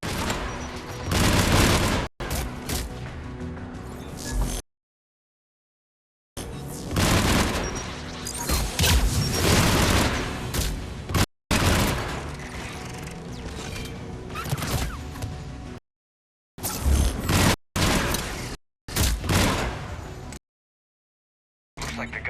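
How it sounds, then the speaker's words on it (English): Anti-aircraft guns in Mass Effect 3 fire in loud, sustained volleys of booming bursts, broken by several sudden silent gaps between repeated rounds of fire. "AA guns ahead of us."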